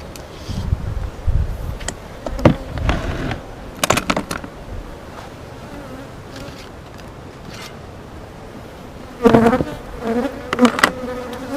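A honeybee swarm hums steadily at its hive in Maple Hill, North Carolina, while smoke is applied. Louder buzzing bursts come as bees fly close past, over a constant background drone.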